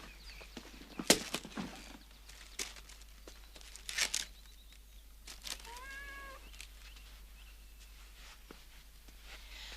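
A cat gives a short, faint meow in a quiet indoor room, set among scattered soft rustles and small knocks.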